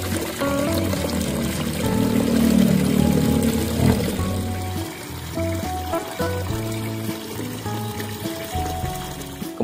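Water pours steadily and trickles into a container, mixing a fungicide solution for treating orchids in five to six liters of water.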